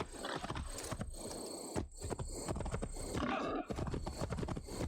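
A horse gallops with rapid, steady hoofbeats in the video game Assassin's Creed Valhalla, set against game ambience, and a neigh is heard partway through. Someone talks over it intermittently.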